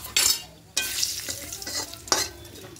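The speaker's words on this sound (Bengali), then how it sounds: "এবার এই তেলের মধ্যে দুটো দারুচিনি স্টিক দেব, আর একটু এলাচের গুঁড়ো দেব।" Cinnamon sticks and cardamom powder dropped into hot oil for an egg korma, giving a sudden loud sizzle with bursts of stirring scrapes, near and alone.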